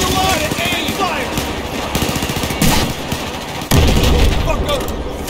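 Battlefield 4 combat on PC: heavy rhythmic weapon fire with sharp bursts and a loud boom partway through, while voices speak over the action.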